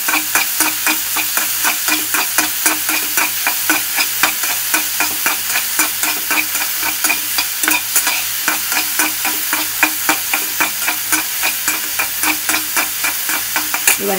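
Tomatoes fry in oil in a pan, a loud continuous sizzle punctuated by regular rhythmic stirring scrapes throughout, with no voices.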